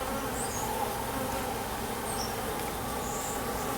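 Honeybees buzzing in a dense, steady drone over an open hive while a beekeeper handles a frame barehanded, close and continuous, with no talk.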